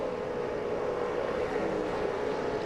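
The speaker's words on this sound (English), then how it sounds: "You could hear Jet working the throttle right here" A NASCAR stock car engine at the 2007 Pepsi 400, droning steadily and loud as the driver works the throttle, its tone rising and easing slightly during a race.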